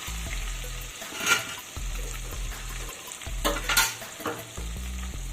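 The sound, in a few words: ginger frying in a pan on medium-low gas heat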